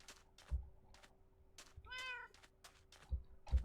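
A Minecraft cat meows several times in short, separate calls at close range, with soft clicks and quiet background hum between them.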